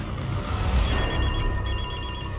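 A telephone rings loudly and close in a film trailer, with an electronic ring that pulses over a thick low rumble of score. It stops briefly and then starts again, and no one speaks.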